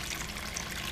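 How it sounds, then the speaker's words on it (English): Water poured from cups into a tray for a salmon recipe, giving a short, continuous hissing splash at moderate volume with no voices. "I have 4 cups of water that we're going to pour into the tray"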